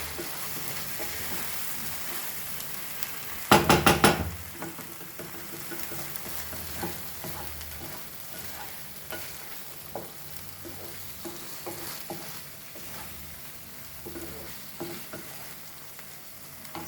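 Cheesy bottle masala pasta sizzles and is stirred in a pan over a gas flame, a soft steady frying hiss with a sharp clatter of utensil scrapes early on, then intermittent stirring clicks, no talking.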